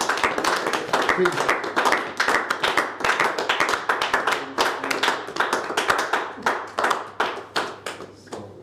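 A small group claps in rapid, fairly steady rhythm for several seconds, close and loud, with a brief spoken word mixed in.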